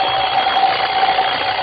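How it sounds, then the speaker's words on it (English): An alarm clock rings as a radio drama sound effect, a loud, continuous shrill bell held at an even pitch throughout. "Coming awake, I heard the alarm we'd set go off."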